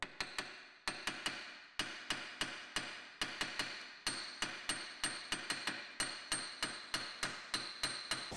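Hammer taps on the end of an Audi drive shaft, a steady series of sharp, ringing metallic strikes, several quick double hits among them, close and clear with no talking.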